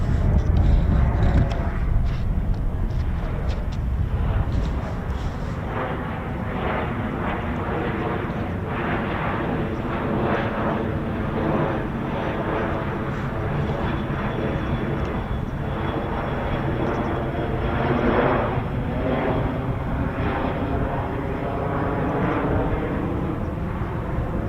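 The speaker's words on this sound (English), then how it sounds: "RAF Phantom just coming back in now on downwind for a touch and go" RAF Phenom T1 jet on the downwind leg ahead of a touch-and-go, a loud, steady turbine roar that rises at the start and then holds a continuous drone with a shifting tonal whine, with no voices over it.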